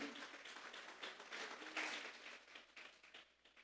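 Church congregation clapping as an offering to God during a sermon, a faint, steady patter of many hands for a few seconds, with a slight swell midway.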